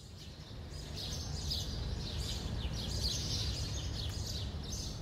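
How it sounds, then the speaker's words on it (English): Birds chirp and tweet busily at a site in Dubai, a dense chorus of small, overlapping calls at moderate distance over a steady low outdoor hum, with no one talking. "That sound you hear is the chirping of birds,"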